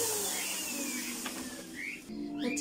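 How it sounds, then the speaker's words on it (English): A vacuum cleaner sucks crumbs out of a cockatoo's cage, giving a steady, loud broadband whine that runs the whole time with small shifts in pitch and no talking. "I'm going to get in there and vacuum out the crumbs."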